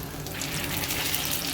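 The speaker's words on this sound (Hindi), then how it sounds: "अंडे में डिप करके इसे ऑयल में फ्राई कर लेंगे" Egg-dipped chicken and potato cutlet sizzling in hot oil, a dense, even crackle and hiss heard close up and alone for a brief moment.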